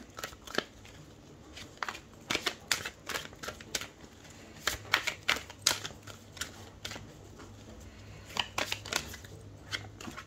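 Tarot cards being shuffled by hand, crisp rapid flicks and riffling snaps in irregular bursts, close and fairly quiet, with no talking.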